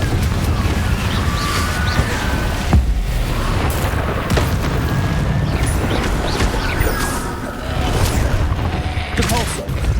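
Confringo fire-blast spells in the Hogwarts Legacy video game, loud booming explosions layered over a dense, continuous battle din with rumbling low end and scattered magical effects throughout.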